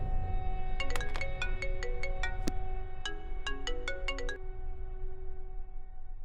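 A mobile phone ringtone plays a bright repeating melody of chiming notes during a phone call in a Tamil-dubbed action film, steady and clear over a low background hum.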